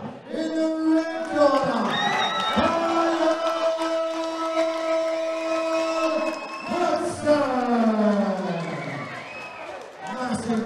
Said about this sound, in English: massive round of applause to Louie there as well